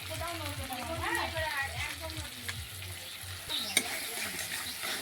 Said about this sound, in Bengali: তো সব মশলা দিয়ে নাড়াচাড়া করছি।